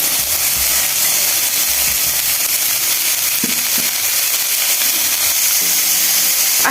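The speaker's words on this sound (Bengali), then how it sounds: "এবার এতে রসুন, কেটে রাখা রসুন ভেজে নিব" Chopped garlic frying in hot oil, a loud, steady, close sizzle that runs unbroken throughout, with a few faint knocks of a utensil underneath.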